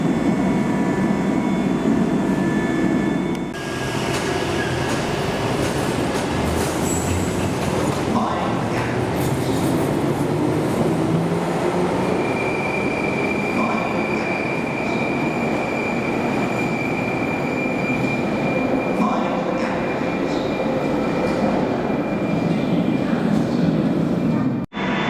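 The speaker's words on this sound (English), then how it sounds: "From the southbound platform you can see the other train leaving." A London Underground train rumbles out of the station at Paddington at close range, a loud continuous roar with squealing wheels and metallic screeches throughout.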